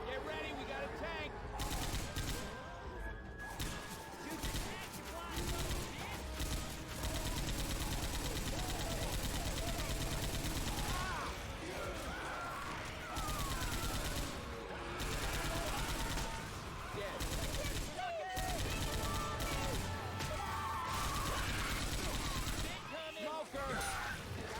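M60 machine gun firing in Left 4 Dead 2 survival gameplay, long dense bursts of rapid shots running almost nonstop, mixed with game chaos and voices talking over it.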